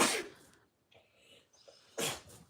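A sharp sneeze bursts out, then quiet stirrings, then a second forceful sneeze close by.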